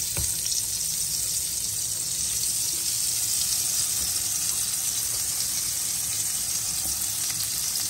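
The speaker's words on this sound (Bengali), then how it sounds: "ঝাল ঝাল বেগুন ফ্রাই করে নিলাম" Eggplant slices spiced with turmeric, chili and cumin fry in a pan with a loud, unbroken sizzling hiss that stays steady throughout, with no speech.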